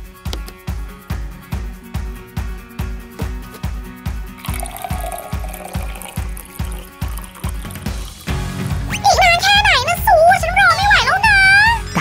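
A homemade Minion soda machine dispenses soda in rhythmic pumping glugs, steady repeated pulses that give way to a continuous pouring flow. A high-pitched cartoonish voice chatters over the last part.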